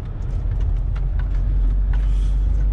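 Car driving through a residential area of Dresden, a steady loud engine and road rumble close by from inside the vehicle, with faint passing noises and no talk.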